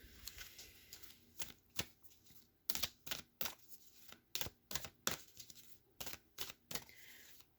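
Oracle cards being shuffled by hand in a series of quick, crisp riffling bursts with short pauses between, close and fairly quiet, no talk.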